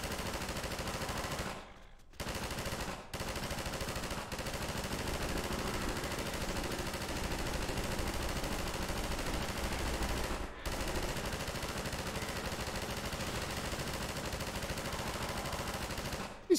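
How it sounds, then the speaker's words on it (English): Machine gun fire in the game Half-Life, sustained rapid automatic bursts filling the clip at steady volume, with a couple of brief pauses between strings of shots. "Machine guns are crazy."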